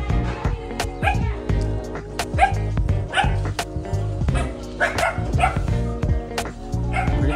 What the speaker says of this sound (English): Little grilling stations, random dogs.